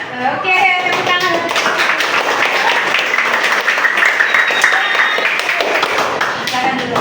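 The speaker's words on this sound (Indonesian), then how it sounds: "Oke, tepuk tangan." A class of children in an Indonesian primary school Islamic studies lesson claps hands together, making a dense, close patter of many small claps. The teacher's voice talks over the clapping throughout.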